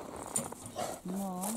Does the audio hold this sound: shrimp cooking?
no